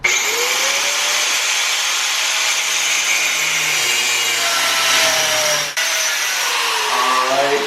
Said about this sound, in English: got the grinder and I'm about to cut it